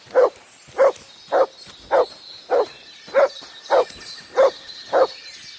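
Mutt the dog barks in Kingdom Come: Deliverance 2, a medieval role-playing game, giving nine evenly spaced, moderately loud woofs at a steady rhythm, with no other sound around them.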